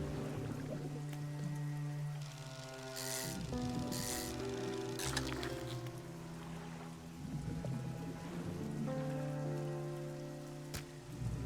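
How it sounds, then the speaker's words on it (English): Rain falls steadily in the fishing game Dredge, a constant patter over a boat engine's low drone and layered tonal game music, with no voices. "Oh, look at that rain."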